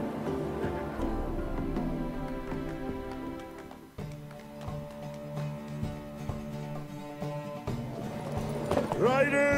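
Horses gallop in a race in The Witcher 3, their hooves a busy clip-clop under game music and speaking voices, with the pace building toward the end.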